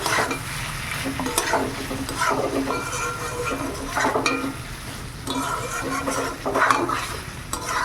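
Broiler chicken curry meat sizzles loudly in oil in a pan while being stirred, with repeated scraping strokes of the spoon against the pan and a steady frying hiss throughout.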